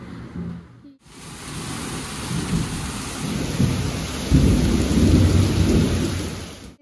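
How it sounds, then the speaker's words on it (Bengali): Heavy, steady rain pours down on a rainy day beside a village pond, with deep thunder rumbling through the downpour and swelling louder toward the end; no one speaks. "এখনো বৃষ্টি হয়েই যাচ্ছে লাগাতার"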